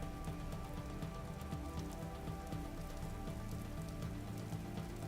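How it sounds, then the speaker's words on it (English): Steady rain falls in the video game Vintage Story, an even, dense patter of drops on surfaces that continues without a break for the whole stretch, with no voices over it. "The rain is kind of making it a little hard to potentially hear."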